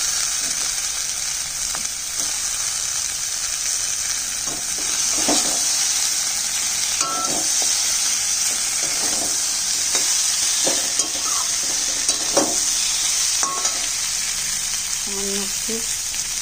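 Soft, parboiled vegetable stems fry in oil with cooked spice paste, a constant loud sizzle with spoon scrapes and stirring clatters throughout, and brief speech near the end.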